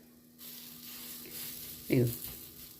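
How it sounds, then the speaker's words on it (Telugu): Corn and spinach fritters frying in a pan of oil, a soft, steady sizzle with a brief louder hiss partway through and faint talk underneath. "నూనెతో దీన్ని కాల్చుకోవాలి నూనెతో కానీ నెయ్యితో కానీ మీ ఇష్టం"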